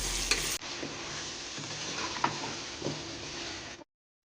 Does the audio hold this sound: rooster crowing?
no